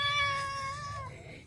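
A cat from an outdoor colony gives a single clear, close meow lasting over a second, falling in pitch as it trails off, with no talking.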